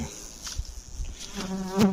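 Bees buzz faintly around the hive, a soft droning with a few brief louder passes near the end.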